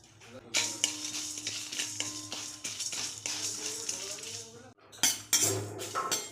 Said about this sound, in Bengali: এটা শুকনো খোলায় ভেজে নেব